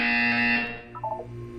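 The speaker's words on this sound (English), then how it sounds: "You will hear a buzzer." A buzzer from the video game Portal 2 sounds as a loud, sustained electronic drone for well over half a second, then cuts off, leaving a few short quieter tones.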